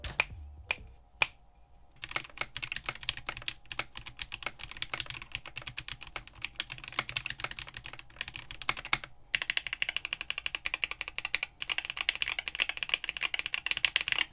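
Rapid, even typing on a mechanical keyboard fitted with case foam, a dense stream of crisp clicks and clacks close by with occasional louder spacebar-like thumps, no voices.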